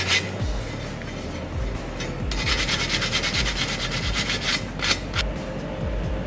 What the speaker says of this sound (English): the first thing I'm gonna do is sand it with some 80 grit sandpaper